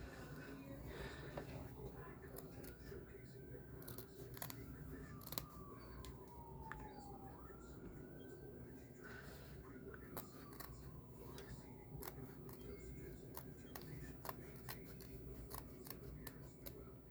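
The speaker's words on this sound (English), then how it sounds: "Okay, and then once you're in there, you can keep cutting." Scissors snip through fabric while sewing an iPhone pocket, a series of faint, sharp cutting clicks spread irregularly over a quiet room tone, with occasional brief speech nearby.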